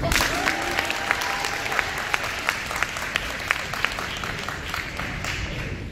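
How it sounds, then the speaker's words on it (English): Audience applause for fathers at a Somali community gathering in Cardiff, a steady wash of many hands clapping throughout with a few louder individual claps standing out. "give a massive applause to the fathers who made it today."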